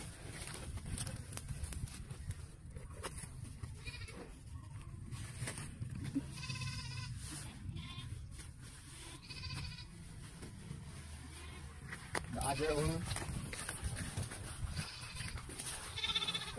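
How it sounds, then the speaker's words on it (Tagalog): A carabao (water buffalo) is fed rotten bananas outdoors. Several short, bleating animal calls rise at intervals over a steady low rumble of wind-like background noise, with soft thuds and shuffling and no talking. "Ito ang kalabaw ni Kuya Kintoy at papakainin niya ng bulok na saging"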